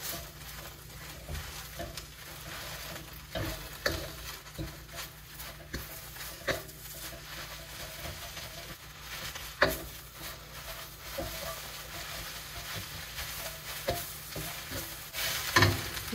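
Gongura leaves fry in a wok while being stirred, giving soft, low-level sizzling with irregular scrapes and clinks of the utensil, some sharper knocks scattered throughout.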